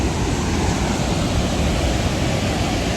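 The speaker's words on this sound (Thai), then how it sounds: "ก็จะเจอกับน้ำตก" A waterfall in Khao Yai National Park, Thailand roars as a steady, dense rush of water, loud and close, filling the whole scene without a break.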